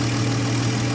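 A 1951 Studebaker or 1948 Nash engine idles steadily and close, a low constant rumble with a broad hiss over it, no voices.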